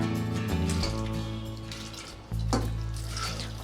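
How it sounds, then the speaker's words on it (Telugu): Soaked lentils tipped into a pressure cooker together with their soaking water, making a steady wet pouring and splashing sound against a low kitchen hum, with no talking. "ఆల్రెడీ నానబెట్టిన వాటర్తోనే దీంట్లో వేస్తున్నానండి"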